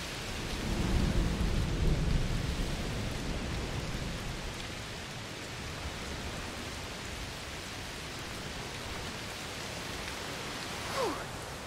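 A thunderstorm in the video game A Plague Tale: Requiem brings a heavy rumble of thunder early, then steady rain hissing on surfaces, with a faint later rumble near the end.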